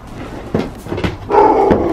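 A Shiba Inu puppy gives a few short, sharp barks and yips close by, with a higher whiny bark near the end.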